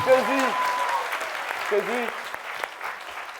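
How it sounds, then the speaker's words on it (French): An audience at a public talk with a government minister claps steadily as a voice speaks over it, the applause filling the space and gradually thinning out toward the end. "On applaudit."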